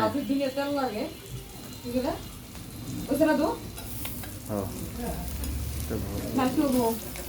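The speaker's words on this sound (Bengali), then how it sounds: "না না, ভাজি লাড়াতে লাগবো, নিজেরা পুড়ে দিতেছে।" Bitter gourd fry being stirred in a pan at home, a steady sizzle with scraping strokes, while people talk over it throughout.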